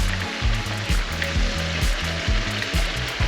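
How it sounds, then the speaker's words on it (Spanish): Potatoes fry in hot oil for a traditional beef stew, a loud continuous crackling sizzle with rhythmic low bubbling pulses, close up and with no talking. "ya se están friendo nuestras patatas"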